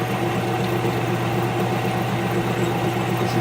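A Grizzly G4015 metal lathe runs steadily while machining a crochet hook, giving a constant loud motor hum with a fast, even mechanical throb and no talking.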